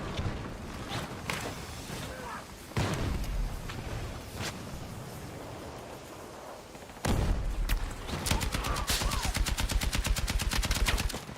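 Sustained light machine gun fire against a tank in a video game, with dense rapid bursts and scattered shots, loudest and most continuous in the final seconds.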